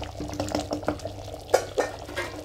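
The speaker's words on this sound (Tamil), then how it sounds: "இப்போது இந்த குழம்பு கொதிச்சிட்ருக்கு" Raw manathakkali (black nightshade) kuzhambu bubbling at a boil in a pot, with soft, irregular pops and gurgles heard close up and quietly, without speech.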